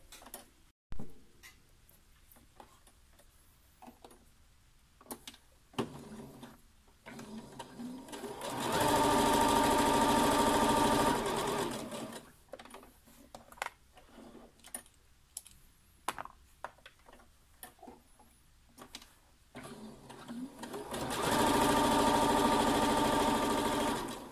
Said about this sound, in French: Et je surpique tout le long à 2 mm du bord.